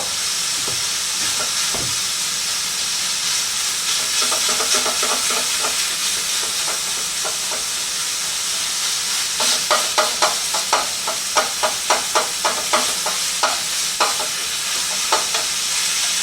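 Pork sausage browning in a pan, a steady sizzle with a spoon or spatula scraping and tapping, the clicks growing frequent and sharp in the second half.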